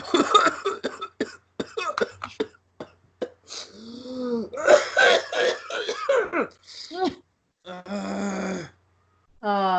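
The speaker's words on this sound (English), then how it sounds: "that familiar cough that I've come to love so much" Several harsh coughs and throat-clearing sounds mixed with groans and gasps, close and loud, in irregular bursts with brief pauses.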